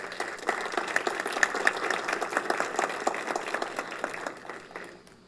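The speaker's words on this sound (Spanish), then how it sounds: "les solicito un fuerte aplauso" An audience at a round table event on electoral observation gives a strong burst of applause, many hands clapping densely at close range before fading out at the end.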